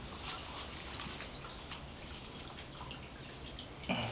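Water from an old, still-working stone spring house trickles and drips softly and steadily, a faint continuous wash with scattered small drips and no talking.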